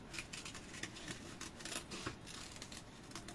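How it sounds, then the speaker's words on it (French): Scissors snip steadily through paper while trimming a stamp-format scrapbooking card, giving a close, continuous run of crisp rasping cuts with no talk. "Je vais aller couper là"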